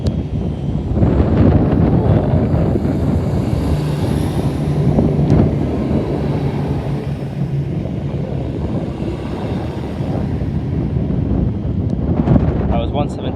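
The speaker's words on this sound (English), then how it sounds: "I'm sorry about the wind, it's extremely windy today." Strong gusts buffet the microphone on a platform at Cambridge station on an extremely windy day, producing a constant low roar that surges and eases throughout.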